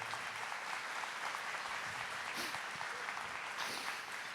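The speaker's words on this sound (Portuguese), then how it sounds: "Palmas para ela." Clapping from a church gathering audience honoring Saint Helena Guerra, a dense, continuous round of applause from many hands, moderately loud and sustained throughout with no talk over it.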